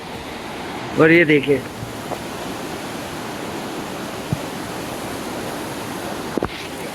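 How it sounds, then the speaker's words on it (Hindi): Waterfall beside a river flowing below, on a pilgrimage route near Badrinath and Kalpeshwar: a steady, even rushing wash that holds throughout, with a brief voice speaking over it near the start. "एक तरफ ये झरना और नीचे ये नदी बहती हुई"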